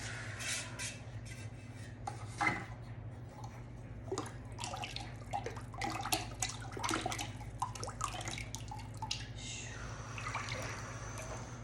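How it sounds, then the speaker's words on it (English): Ceramic glaze poured over a bowl, heard as a close, soft stream of liquid with splashes and drips, with light handling sounds throughout and no talk. "I will cock my wrist away from me and then spin it as I'm pouring the glaze onto the outside of the bowl"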